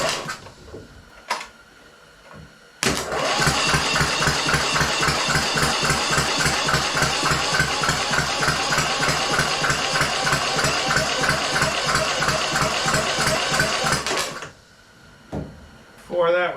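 A blown small engine on a zero-turn mower runs on carb spray alone, a loud, steady, rapid chugging that lasts about twelve seconds before cutting out. A few clicks and short noises come before and after it.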